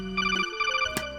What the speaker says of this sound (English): You hear the phone? Do you hear the ringing?